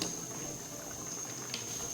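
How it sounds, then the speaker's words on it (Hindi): Mutton stock (yakhni) boils in a cooking pot for pulao, a steady, quiet, fizzing bubble with no voices. "अब यखनी उबल गई अच्छी तरीके से"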